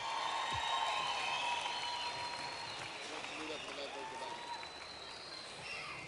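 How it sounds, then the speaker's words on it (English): Scattered applause from a crowd at the Golden Shears shearing final, fairly distant and soft, with cheering voices and a commentator-like voice mixed in. "Give him a round of applause."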